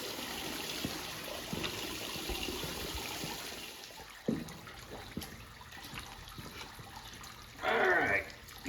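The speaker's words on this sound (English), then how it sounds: "You want to open up your taps so that we can get this thing as empty as possible" Water drains from a 40-gallon electric hot water tank with a faint, steady trickle, broken by a sharp knock midway and a louder gush of running water near the end.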